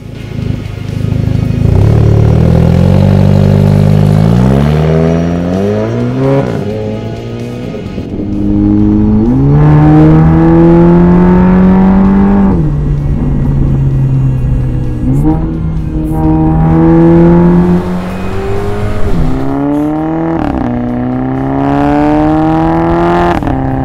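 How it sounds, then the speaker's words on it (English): Exhaust of a 400 hp Audi TTS revving hard, loud and close: repeated climbing rev sweeps that rise in pitch, drop back and rise again across several cycles, with no voices. "this is an exhaust system and the best way for you to experience it would be for me to clam up and let you have a listen for yourself"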